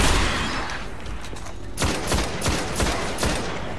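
Gunfire in the video game Destiny, with a dense burst of shots early on followed by several sharp separate bangs in an irregular sequence, loud and without speech.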